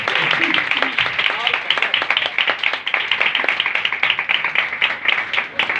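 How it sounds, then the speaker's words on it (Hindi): A congregation claps loudly and steadily at a religious gathering, a dense sustained rhythm of many hands throughout. "एक बार जोरदार तालियां।"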